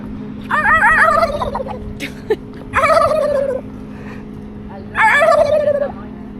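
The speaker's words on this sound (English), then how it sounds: "See the turkeys?" Turkeys gobble close by in Lynchburg, Tennessee, in three loud rattling bursts, separated by short pauses, over a low steady hum.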